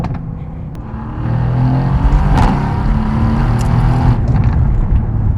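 A turbocharged car accelerating hard, its engine swelling from a low rumble into a loud, steady roar that stays close, with no talk over it.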